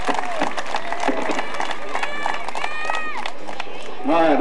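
Crowd applause and cheering at a C.C. Speedway super stock championship trophy night, a steady broad wash of clapping carrying on under a voice on the microphone throughout.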